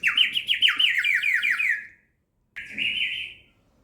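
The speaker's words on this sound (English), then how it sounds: "The cool breeze and the chirping of the birds" Small birds chirp and trill in quick descending runs, loud and close, with a second short burst of song after a brief pause and no other sounds.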